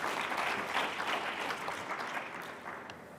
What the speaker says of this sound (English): Can you applaud her?